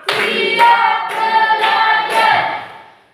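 Schoolchildren in a junior high Pancasila class clap together in a short rhythmic pattern, about five loud, evenly spaced bursts over a few seconds, close by and with no talking.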